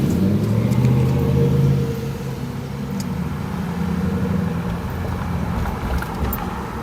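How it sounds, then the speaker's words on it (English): A car creeps along in stop-and-go traffic after a concert, heard from inside as a steady low engine and road rumble that eases slightly partway through, with no talking. "Stop and go traffic right now."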